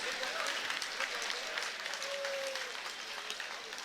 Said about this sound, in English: Let's have a round of applause for these two great fighters and one hell of a fight, folks